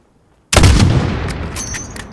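A single heavy sniper shot at a long-range target 600 meters away in Call of Duty: Modern Warfare (2019): a sudden loud blast that decays into a long rolling echo, with a faint high ringing tail.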